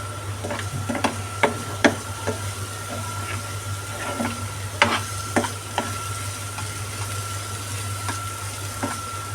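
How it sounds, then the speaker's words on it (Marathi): Raw masala stirred and fried in oil for a home-style prawn (kolambi) curry: a spoon scrapes the pan in irregular clanks over a steady low sizzle and hum, with no talking. "कारण कच्चा मसाला असल्यामुळे आपण तेलामध्ये चांगलं भाजून घ्यायचं आहे आपल्याला."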